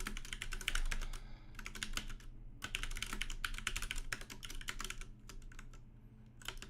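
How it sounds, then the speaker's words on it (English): Rapid, steady typing on a computer keyboard, close and clear, with dense clattering keystrokes in runs broken by brief pauses, over a low constant hum. "I've done so much typing."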